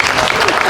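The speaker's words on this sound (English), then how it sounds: "One more round of applause for our big community band." Brief burst of applause from a Flag Day celebration crowd for a community band, dense and fairly loud, with a hint of voices mixed into the clapping.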